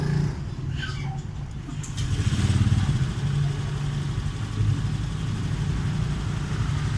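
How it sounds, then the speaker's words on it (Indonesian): A Honda Vario 125 scooter with a weak, sluggish engine starts and settles into a steady low idle, with a few clattery mechanical sounds near the start, recorded close by. "Coba di start Mas Basor."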